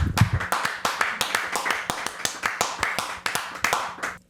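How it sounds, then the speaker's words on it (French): A studio audience applauds to welcome a guest on a podcast, a brisk run of sharp, close claps in a fairly even rhythm lasting several seconds. "une bonne main d'applaudissements pour Marilyn Coulombe"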